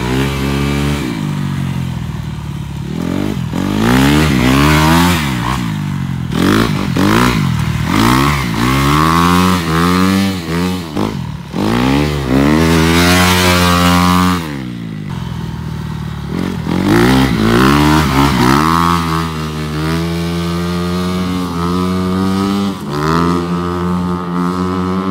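A cross-enduro motorcycle rides through a curve, its engine loud and close, revving up and down in rising and falling sweeps with clattering, scraping undertones and no speech.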